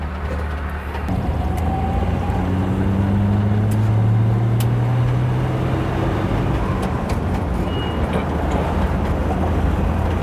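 A 1960 Plymouth wagon's engine is held at full throttle, a loud, sustained droning roar with a rising tonal whine as it pulls steadily for about ten seconds, with no voices.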